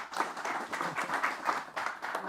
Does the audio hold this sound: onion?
no